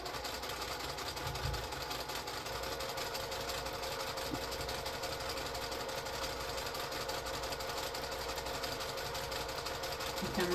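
A sewing machine stitches a pumpkin potholder quilt, running as a steady, continuous mechanical whir throughout, fairly even in level with only slight variation near the end.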